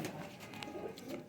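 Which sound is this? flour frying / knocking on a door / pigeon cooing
pigeon cooing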